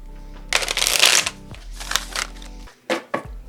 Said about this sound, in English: I'm going to give it the old-fashioned shuffle.